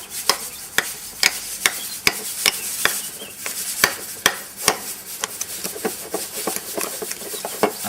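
A spoon works Roquefort cheese into a stuffing in a bowl, giving a long run of sharp clicks and scrapes at an uneven, brisk pace. The sounds are close and moderately loud, with no voices.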